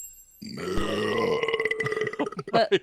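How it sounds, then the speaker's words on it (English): A long, loud, guttural burp after drinking Yuengling beer, rolling on for over two seconds with a rough, voiced drone that breaks up into choppy bursts near the end. "That's the Yingling burps."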